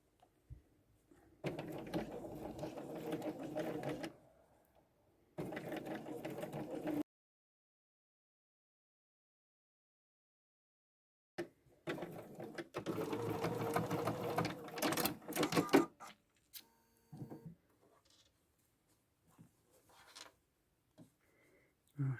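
Sewing machine stitching the second side of an invisible zip with the needle shifted to the far right, running in three close, steady bursts separated by pauses, the last one longer and followed by faint handling clicks.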